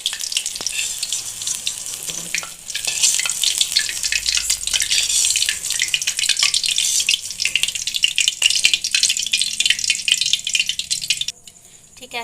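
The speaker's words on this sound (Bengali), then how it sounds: "ঠিক একইভাবে সব পকোড়াগুলোই ভেজে নেব" Chicken pakoras fry in a batch in hot oil, giving a steady, dense sizzle and crackle with occasional light rattles, fading near the end.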